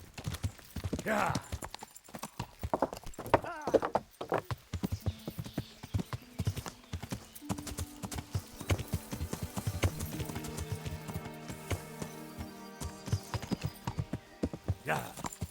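Horse hooves in the video game Kingdom Come: Deliverance clip-clop in a steady rhythm throughout, with a brief whinny and faint music or tones rising in the background.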